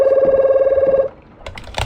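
In a video game, a telephone rings with a steady warbling electronic tone for about a second, loud and close, then stops and gives way to quieter scattered noises.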